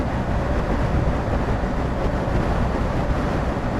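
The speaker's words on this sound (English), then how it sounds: "it's windy today." Dense, steady wind roar batters the microphone while riding a motorcycle on a windy day, a loud continuous rush of noise with no talking over it.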